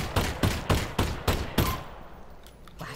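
Six evenly spaced, loud gunshots ring out close by in the virtual reality game Half-Life: Alyx, each followed by a short decay, and the shots give way to quieter ambience.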